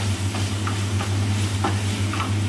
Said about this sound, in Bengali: নিয়ে আমি এটাকে আবার একটু নাড়াচাড়া করব